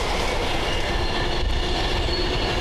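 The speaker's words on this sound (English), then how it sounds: "As the intercity service goes past the bowling green" Intercity train rolling past a bowling green during a crown green bowls final, a loud steady rumble of wheels on rail with faint squealing, continuous and close throughout with no talk.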